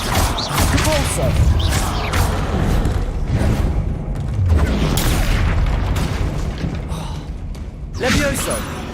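A Depulso spell cast in combat in Hogwarts Legacy, producing loud booming impacts and crashing thuds in bursts, mixed with a shouted voice and other battle noise.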